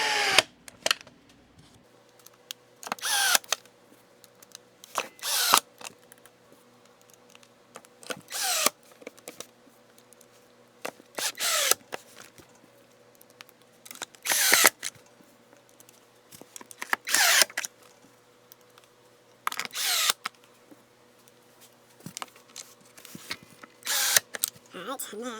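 Power driver running screws into a Makita chainsaw and blower housing during a teardown, about a dozen short whirring bursts spaced a few seconds apart, with quiet handling noise between them.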